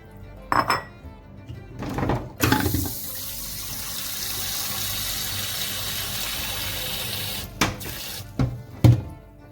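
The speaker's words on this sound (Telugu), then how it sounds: "నీళ్ళు పోసుకోవాలి." Water runs from a tap and pours into a cooking pot while preparing Hyderabadi bagara rice, with a steady splashing stream in the middle framed by clanks and knocks of the pot and utensils, fairly close and moderately loud.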